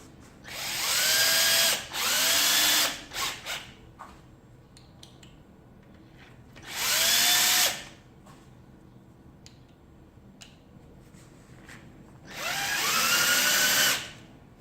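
A power drill runs bolts into a heat gun rotor in three separate bursts of whirring, each a second or two long, with quiet gaps and faint handling clicks between them, close and clear.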